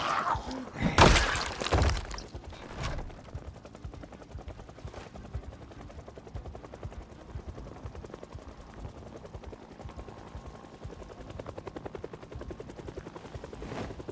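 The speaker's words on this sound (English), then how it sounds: "Oh, we have a chopper." A helicopter in the video game Project Zomboid thrums with a steady rapid rotor chop, following a loud burst of crashing impacts at the start, continuing at moderate volume throughout.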